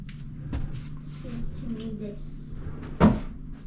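A closet door or drawers in a rented home in Midtown Atlanta open and close with two distinct wooden knocks, a lighter one early and a sharper, louder thump later, close by, among faint voices and room shuffling.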